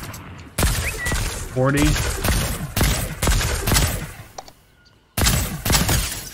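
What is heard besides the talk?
gunfire in the video game Fortnite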